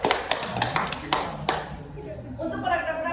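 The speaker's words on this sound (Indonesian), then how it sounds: "Kita beri tepuk tangan terlebih dahulu" Classroom students clap together in a short burst of sharp, separate claps over roughly a second and a half, followed by quieter room sounds and a voice speaking.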